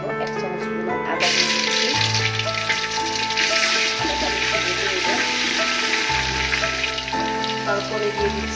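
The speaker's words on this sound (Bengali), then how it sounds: "ভালো করে ভালো করে ভেজে নেব।" Ginger sizzles in hot oil in a pan while polao is being cooked, a steady hissing fry running throughout with background music layered over it.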